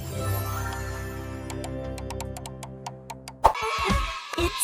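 Cartoon-style duck call for a children's letter guessing game, a few bright quacking calls after a sustained musical chime with ticking clicks, fairly close and clear with no talking.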